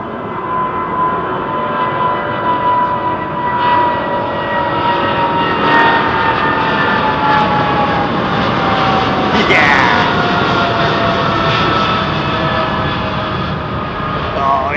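Airliners departing London Heathrow roar steadily and loudly throughout, a continuous rumbling jet-engine drone with rising whine tones as an aircraft climbs out nearby.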